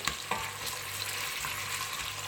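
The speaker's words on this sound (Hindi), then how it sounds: "तो ये प्याज को अब ब्राउन होने देते हैं पहले।" Onions fry in a pan, browning as the first step of a chicken curry, giving a continuous close crackling sizzle with a few sharper spits and stirring knocks.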